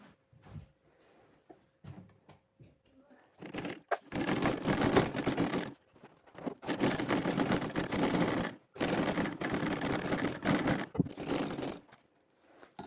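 Sewing machine stitching a garment neck design, running in several long, loud bursts separated by short pauses, with quiet handling noises before the stitching starts.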